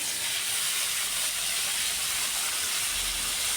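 Aubergine and potato frying in hot oil with a radhuni seed tempering, giving a loud, steady, close sizzle that hisses evenly throughout with no voices.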